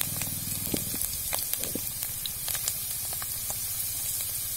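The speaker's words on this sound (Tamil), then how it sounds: "ஏலக்காய் ஒரு 10 ஏலக்காய் இந்த முந்திரி பருப்போட எண்ணெயில் போட்டு பொரிச்சிக்கலாம்." Cashew nuts and about ten cardamom pods fry in hot oil, giving a steady close sizzle with scattered small pops and crackles throughout.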